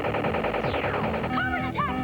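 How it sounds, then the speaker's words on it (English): An electronic toy's battlefield sound effects from a G.I. Joe General mobile battle fortress play loud and continuously, with rapid rattling bursts like machine-gun fire and warbling synthetic tones layered over a dense, busy backdrop. "a huge mobile battle fortress with working lights and electronic battlefield sounds"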